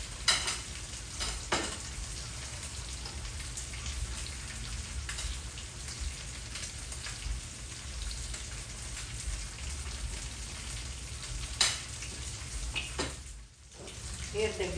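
Garlic frying in butter in a pan for a meunière sauce, a steady broadband sizzle that runs throughout with a few sharper crackles and a brief dip near the end.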